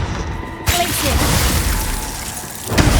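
Glacius ice spell in Hogwarts Legacy bursts with a sudden bright shattering crack, followed by a sustained crunchy, glassy rumble and another sharp hit near the end, loud and close.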